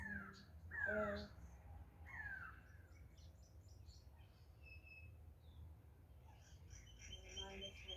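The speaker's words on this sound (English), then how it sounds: "Listening to the birds." Birds calling outdoors, crow-like caws and scattered chirps heard faintly at a distance over a low background hum, with a few louder calls early on.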